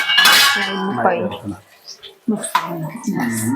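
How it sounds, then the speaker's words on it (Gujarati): Vegetables and turmeric are stirred in hot oil in a pot for undhiyu, with a metal spoon clattering and scraping against the pot in short bursts while someone talks over it. "થોડી હલાઈને થોડું થવા દે એટલે તેલમાં શેકાઈ જાય ને હળદર"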